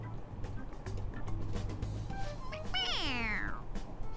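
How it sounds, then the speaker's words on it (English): A stuffed toy cat in Persona 5 Royal gives a single drawn-out meow when its head is pressed, clear and close over a soft ambient game backdrop. "I heard it meowing."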